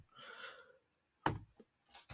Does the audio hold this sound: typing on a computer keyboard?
yes